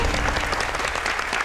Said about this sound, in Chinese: 熊熊、林信负，掌声鼓励一下。